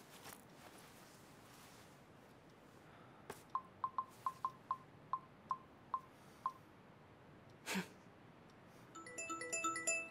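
A telephone keypad dialed, about ten short tone beeps in an uneven run, followed by a brief rustle and faint electronic chirps.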